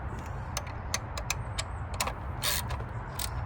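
Small 5mm Allen bolts are tightened on a Lexus IS 250 valve cover, giving a string of quiet ratcheting clicks and metallic creaks close up over a low background hum.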